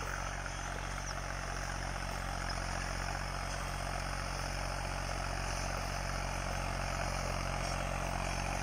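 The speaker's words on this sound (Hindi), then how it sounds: "लेंसर रोटरी टीलर का इस्तेमाल कर रहे हैं।" A Lancer rotary tiller (rotavator) churns through a farm field in a steady, loud, continuous engine drone with a constant rumble and no breaks, with no talk over it.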